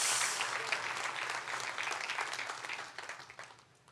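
A church congregation applauds steadily for a few seconds, dense clapping that gradually thins and fades out toward the end.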